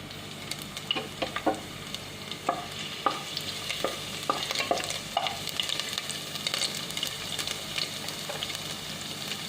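Garlic frying in hot oil in a pan, with a soft continuous sizzle and scattered sharp spatters and utensil clicks, fairly close.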